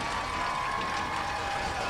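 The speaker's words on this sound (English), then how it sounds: "3 rounds of applause for the Columbia Eagles" Applause for the Columbia Eagles high school varsity football team after a win over Freeburg: steady, dense crowd clapping with light cheering in a stadium, continuous and fairly loud throughout.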